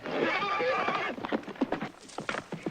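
In a 1972 western film scene a horse neighs, then its hooves thud and stomp in quick, irregular beats, at a moderate distance with some movement around it.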